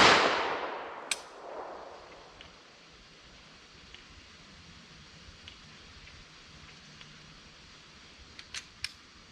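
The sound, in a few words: 10mm pistol gunshots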